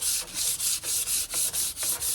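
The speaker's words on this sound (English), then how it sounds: "if you've never done a scuff sand, literally you're just lightly going over everything to rough it up a little bit." Light scuff sanding by hand across an outdated wooden desk, a rapid, even rhythm of about nine close, loud rasping back-and-forth strokes with no talk.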